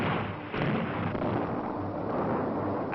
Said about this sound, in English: they drilled holes in the rock and loaded them with dynamite.